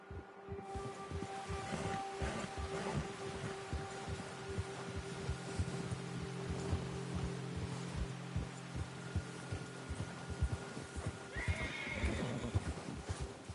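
A horse in the Red Dead video game neighs and whinnies while hooves clip-clop steadily over the ground, with faint wind in the background.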